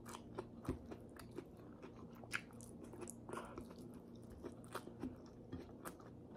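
Someone chewing crunchy, half-cooked okra during a Filipino mukbang of pinakbet with rice, with close, quiet irregular bites and crunches and soft wet mouth sounds, no talking.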